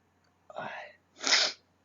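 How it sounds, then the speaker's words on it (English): A single person sneezes close to the microphone, a short sharp inhale followed by a burst of the sneeze, loud against a quiet room. "I feel like I'm going to sneeze."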